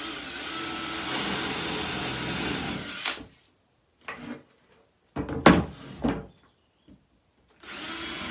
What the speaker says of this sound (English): The reason we're drilling these holes is to accept the hardware